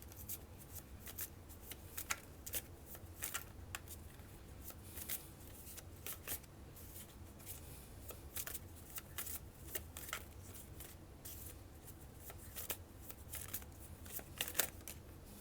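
Tarot cards shuffled steadily for about fifteen seconds, a continuous papery riffling and slapping close up with crisp flicks throughout, no voices.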